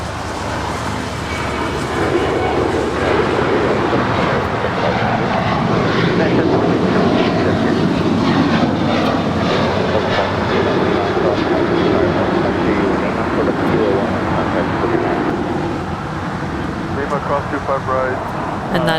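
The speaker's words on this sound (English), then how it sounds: "That right there you're looking at is Philippine Airlines flight 113 heading to Manila." A Philippine Airlines Boeing 777-300ER jet, flight 113 to Manila, departs LAX with a loud, sustained engine roar that holds steady before easing slightly near the end, with a voice talking over it.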